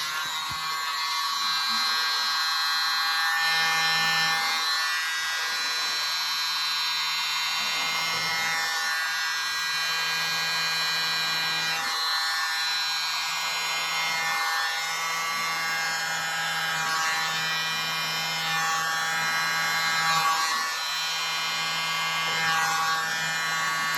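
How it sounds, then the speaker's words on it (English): Electric blower running steadily for acrylic paint pouring, a continuous high whine with a low hum, fairly close and unbroken throughout. "I want to test my blower and see which attachment works the best."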